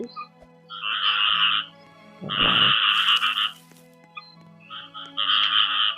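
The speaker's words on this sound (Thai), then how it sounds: "ช่วงนี้หน้าฝนกบเยอะมากเลย" Frogs croak in the Roblox game Grow a Garden, in repeated pulsing bursts, loud and close, with a brief low rumble in between and a steady hum underneath.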